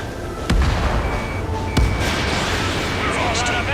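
Aerial combat in Ace Combat 7 with two sharp, loud booms of cannon fire cutting through a dense, steady roar of battle noise, against a constant busy background.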